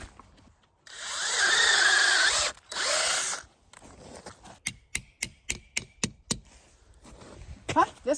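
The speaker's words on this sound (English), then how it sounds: "You don't want to drill too much or create too big of a wound, is to not drill too deep." A power drill bores a tap hole into a maple tree, two loud whirring bursts of a couple of seconds each, followed by a quick series of sharp knocks as the spout is tapped in.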